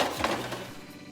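A quick burst of rattling and clattering as broccoli is shaken in a metal air fryer basket, close by, fading into a low hum after about half a second.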